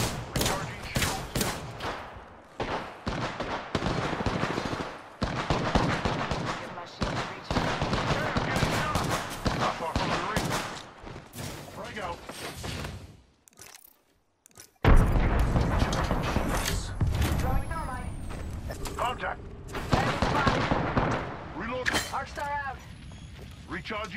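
A Halo video game battle near a lava fissure, with dense volleys of rapid gunfire and booming impacts that break off into a brief silence and then resume loudly. Voices shout over the combat.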